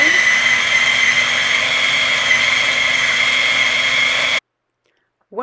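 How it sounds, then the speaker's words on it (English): A kitchen blender whirs steadily at close range while blending salmon roll ingredients, a loud continuous motor drone with a high whine that cuts off abruptly before a short silence at the end. "once I blended all ingredients together, I'm gonna remove the whole mix from the blender"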